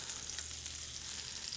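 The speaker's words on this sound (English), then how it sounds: "And with that butter, we just keep basting" Beef sizzles quietly in a pan of butter with herbs and garlic as it is basted, a faint, steady frying hiss with a few soft spoon taps.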